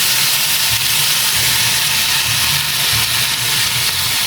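Soy sauce hitting a hot pan of cooking chayote, a steady, loud, broad sizzling hiss that holds evenly for several seconds with no voices.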